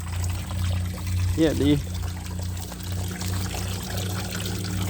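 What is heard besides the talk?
garden water fountain splashing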